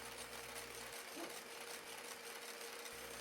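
An electric mixer whips meringue at medium speed, a steady low mechanical whir heard close and fairly quiet, with no talk.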